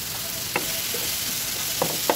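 Hilsa fish frying in spiced oil gives a dense, continuous sizzle close by. A few faint clicks of a utensil cut through it. No one talks.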